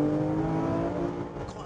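A Porsche 997 GT3 RS engine drones loudly and steadily from inside the car while driving, with a strong, even tone that eases slightly toward the end.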